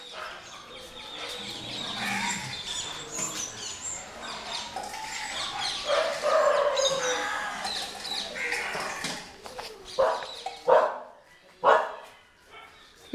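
Dogs at an animal shelter bark from their cages, a busy overlapping chorus that grows into several loud close barks toward the end, with rooster-like calls and voices mixed in.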